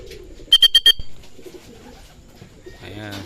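A blue bar white flight racing pigeon coos near the loft during derby preparation. A few short bursts sound up close, then a soft throaty coo follows, with people talking quietly around the birds.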